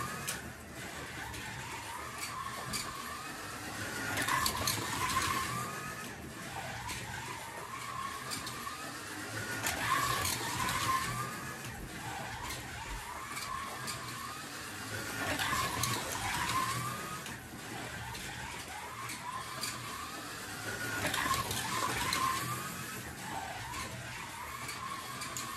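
An SRC Lancia RC car runs repeated laps, its small motor whining steadily while tires skid and squeal through the corners, the screeches swelling at regular intervals about every five to six seconds.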